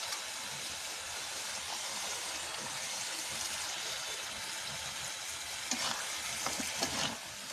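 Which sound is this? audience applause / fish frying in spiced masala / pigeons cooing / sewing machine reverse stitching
fish frying in spiced masala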